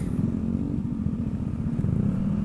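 A Bajaj Dominar motorcycle being ridden, its engine a low steady rumbling drone with a fast pulsing throb, close and continuous, with no talk.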